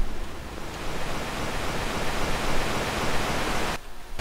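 A waterfall in the video game Devil May Cry 3 gives off a steady, dense rushing hiss of falling water, loud and unbroken, dropping away sharply just before the end, with no one speaking.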